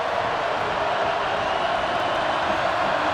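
Crowd noise at a college football stadium during Baylor Bears vs BYU Cougars, a dense, steady roar that fills the space evenly without distinct peaks.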